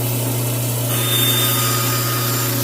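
A bandsaw running while relief cuts are made in wood, with a steady motor hum and a constant tonal whine that brightens partway through as the blade works, close and alone without speech.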